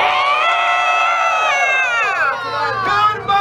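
A hungover Sunday morning crowd at a renaissance festival's opening shouts and cheers back in reply, a loud sustained mass of overlapping voices with rising and falling whoops across the whole stretch.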